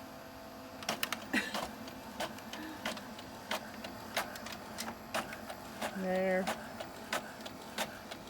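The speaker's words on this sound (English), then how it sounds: "Oh, please don't mess my printer up." Printer feeding fabric-backed paper, giving faint rhythmic clicks and ticks at regular intervals with a short motor whir midway, and a voice briefly speaks.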